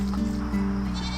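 A goat bleats at a farm that offers self-serve bottle feeding of baby goats, one steady, close and fairly loud bleat running through nearly the whole moment with no talking over it.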